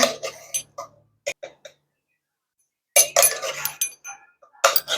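Metal measuring spoons clinking together while scooping baking powder in a home kitchen, a few quick light clicks and taps in short clusters separated by a silent pause, close and crisp.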